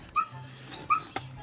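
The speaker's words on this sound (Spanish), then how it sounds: "Oh, perrito." Small dog whimpering nearby in a home, two high thin whines rising and falling about a second apart, with a soft tap between them and quiet room noise.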